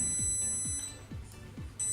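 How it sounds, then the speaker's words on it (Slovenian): An alarm sounds at a school-built electric car model with augmented reality, a steady high-pitched electronic tone with repeating falling low chirps about twice a second, fairly loud and continuous. "Pa alarm izključi tam gor."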